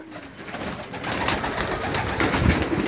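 Breeding male pigeons coo softly and repeatedly nearby in a loft, with low throaty calls overlapping continuously and no speech.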